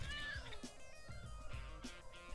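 A cat meows a few times in the Lego City Undercover video game, short plaintive calls over a steady hum of game background sound.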